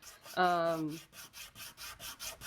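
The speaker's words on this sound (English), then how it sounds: "So I'm just sanding." Hand sanding with steady rhythmic back-and-forth rubbing strokes, close and moderately loud, briefly overlapped at the start by a voice.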